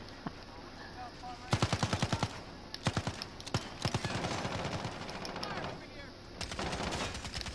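SMG fire in a video game comes in rapid bursts of several shots each, loud and close, with pauses between bursts and faint players' voices underneath.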